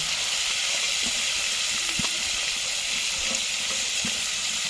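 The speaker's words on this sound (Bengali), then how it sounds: "কড়াইতে সরষের তেল দিয়ে লবণ হলুদ মাখানো কাঁকড়াগুলো দিয়ে দেবো পরপর সাজিয়ে" Crabs rubbed with salt and turmeric fry in mustard oil in a kadai, giving a loud, continuous close-up sizzle with occasional soft crackles and bumps.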